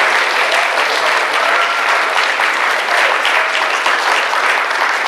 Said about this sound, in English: So if you could give them a huge round of applause